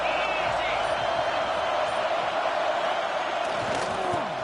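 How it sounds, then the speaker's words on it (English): Stadium crowd noise in the College Football 26 video game, a dense continuous roar at steady loudness with a commentator talking over it. "This crowd ready to make its presence known."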